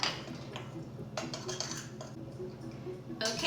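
Scone dough being mixed in a bowl, dry ingredients stirred with a utensil, giving a steady run of soft scraping and light clinks against the bowl, close and moderately quiet, with no talking.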